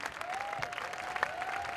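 An audience applauding graduating students at a ceremony, a steady wash of clapping from a crowd, moderately faint and continuous throughout.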